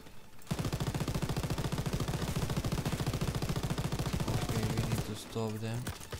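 Sustained rapid machine gun fire in a World War II battle from the Call of Duty WWII video game, loud and continuous for several seconds before cutting off into other game sounds.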